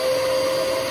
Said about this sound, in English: When you plug in the vacuum and it just turns on by itself.